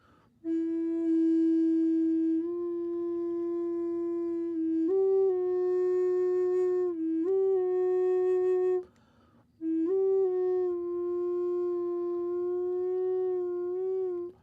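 A flute plays a seven-note minor scale between E5 and E4, with clear sustained notes held for a second or two each and stepping from pitch to pitch, solo and close with a short pause near the end.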